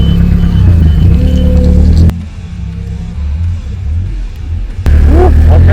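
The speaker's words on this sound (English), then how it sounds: "Dude, we got Tyler on the forklift" A forklift drives at a construction site with a loud engine rumble that drops to a quieter idle in the middle and then returns strongly near the end, with no speech heard.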